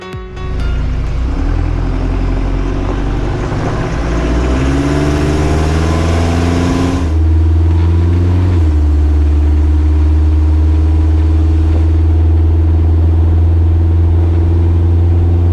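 Kubota diesel engine in a Jeep TJ Wrangler, turbocharged with the wastegate disabled, revving up through a gear, shifting, then pulling hard at a loud, steady droning pitch from close by, with no talking.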